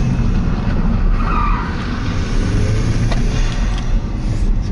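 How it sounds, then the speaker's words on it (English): A Ford Mustang EcoBoost drift car breaks into a loud, steady tire skid during an e-brake pull into a corner, with engine roar underneath and no talking throughout. "I'm gonna do a little e-brake rip right here, up into this corner."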